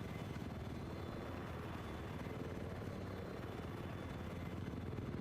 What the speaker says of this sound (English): This is a good map for the attack chopper, though.